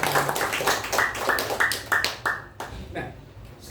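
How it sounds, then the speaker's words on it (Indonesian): Congregation clapping at a worship and prayer night, a short scattered burst of applause with a steady speaking voice continuing over it. "Berikan tepuk tangan untuk Tuhan."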